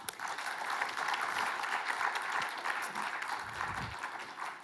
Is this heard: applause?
yes